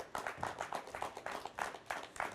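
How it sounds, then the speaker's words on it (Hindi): A stage audience claps to welcome a guest, a faint, even patter of many hands with no voices over it. "कृपया जोरदार ताली से उनका स्वागत करें"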